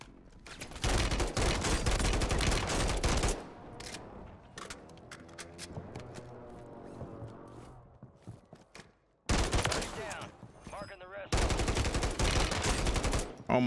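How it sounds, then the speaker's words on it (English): Rapid automatic gunfire from a Glock and a Draco in Warzone, with loud bursts of close fire broken by a quieter gap of distant rattling before heavy shooting resumes. "He's just shooting."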